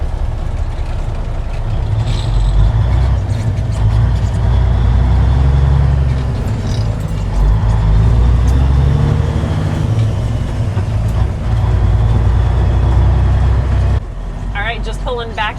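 A 1953 Peterbilt iron nose truck on a test drive pulling back up at a shop, with a loud, continuous low engine rumble throughout and people talking over it before it drops away near the end.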